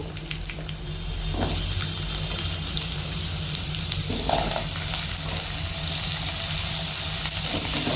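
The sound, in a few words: potatoes and black cumin frying in oil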